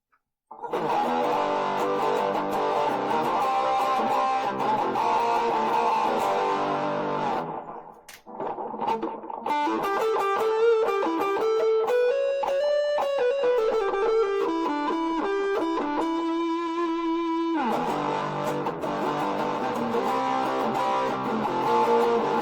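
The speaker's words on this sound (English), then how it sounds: "if we add a little bit of chorus to it" Electric guitar through a Marshall MS-4 one-watt mini amp with a shimmering chorus effect, strummed chords giving way to a sustained, wavering single-note passage before the chords return.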